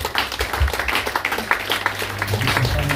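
An audience claps at a testimony gathering, with a steady dense patter of hands throughout and a voice faintly beneath it.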